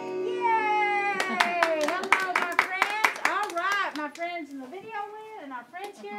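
Quick sharp hand claps in a lively rhythm under children's singing, with several claps in a row that then trail off.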